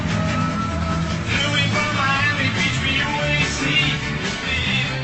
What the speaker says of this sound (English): This is like playing 100 albums at once.